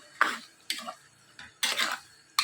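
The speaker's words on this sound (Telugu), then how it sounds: "మాసం వేసుకుని ఇట్లా బాగా కలుపుకోండి" Mutton pieces stirred into cooked-down onions and spices in a pot for an Andhra mutton curry, giving four separate scraping, clattering bursts of spoon against metal with short quiet gaps between them.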